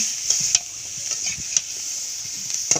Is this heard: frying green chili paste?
yes